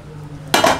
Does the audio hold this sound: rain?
no